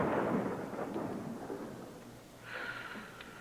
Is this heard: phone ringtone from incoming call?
no